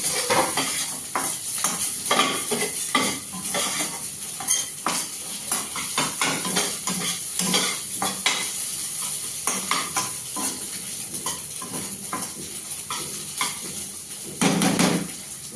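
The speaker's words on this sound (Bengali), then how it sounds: "চিংড়ি মাছটা ভেজে তুলে রাখতে হবে।" Prawns fry in a pan with a steady crackling sizzle, broken by frequent sharp scrapes and clinks of a utensil against the metal, close and fairly loud, with no voices.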